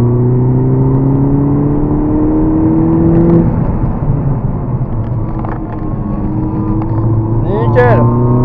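A Mini Cooper S R56 accelerating on a race circuit, heard from the cabin as a loud engine note rising and settling through shifts, with brief higher whines near the end.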